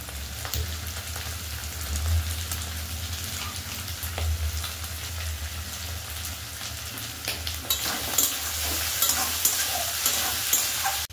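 Two large chopped onions frying in a pan for a Bengali bitter gourd and potato curry with rohu fish oil, a steady close sizzle with occasional stirring scrapes, no voices.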